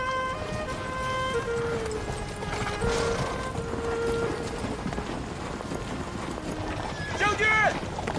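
Horse hooves clip-clop at a steady trot beneath a battle scene in ancient China, mixed with shouting voices and a loud, busy background.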